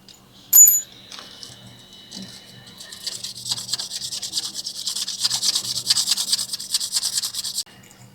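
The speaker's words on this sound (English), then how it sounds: "Go ahead and get a sandpaper, small sandpaper, and just get all this rust off." Small sandpaper is rubbed over a rusty brake caliper pin from a 2016 Mercedes GLC 300 front brake job, a close, scratchy back-and-forth rasping that builds after a sharp metallic clink.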